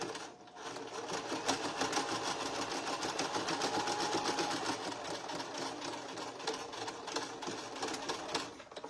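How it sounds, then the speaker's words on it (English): A simple Singer sewing machine stitching steadily and continuously, its rapid mechanical chatter loud and close throughout, with no talking. "I just have a simple Singer machine."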